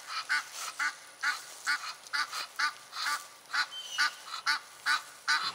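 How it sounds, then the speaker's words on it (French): Ducks by a lake calling as they are disturbed, a repeated series of loud nasal quacks and honks in an irregular rhythm, several birds nearby with no talking over them. "Et là, vous voyez, c'est les canards que j'ai filmés hier."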